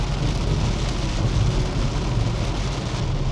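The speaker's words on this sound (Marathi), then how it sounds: "रस्त्याला पाऊस अचानक येतो" Heavy rain pours steadily with a deep low rumble underneath, a constant loud roar that never lets up, on a road trip to a Konkan village.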